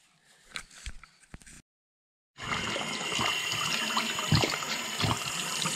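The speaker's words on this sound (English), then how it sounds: "Rinsing you off, buddy." Running water from a tap rinsing someone off: a few soft knocks, a moment of silence, then a steady close splashing flow with irregular bumps and no talking.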